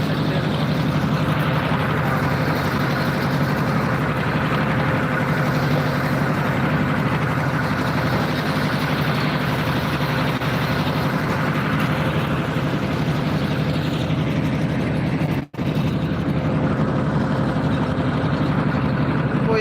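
Constant loud drone of a trawler boat's engine during a river crossing near Mehendiganj, Barisal, a steady heavy rumble that fills the whole stretch with barely any change.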